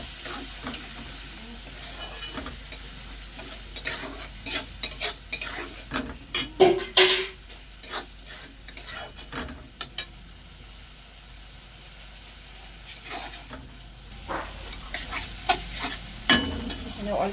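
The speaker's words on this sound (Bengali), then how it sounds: "টমেটো বাটার মশলাটা আরেকটু ভালো করে কষে নেব" Spice masala with tomato paste being fried and stirred in a pan for a koi fish curry, a steady sizzle under repeated scraping and clinking of the spatula against the pan, busy at first, quieter midway, then picking up again.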